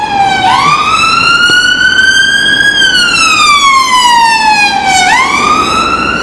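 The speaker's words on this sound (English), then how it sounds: "Ambulance number 4." A loud, close ambulance siren wails on a London street, sweeping slowly up and down in pitch in a continuous rising and falling cycle.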